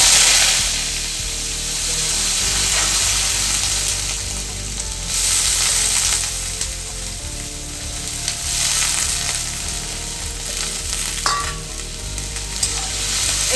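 Chopped onion and chilli sizzle in a pan with a continuous loud frying hiss. Intermittent scrapes and stirring noises rise above it, and there is no speech.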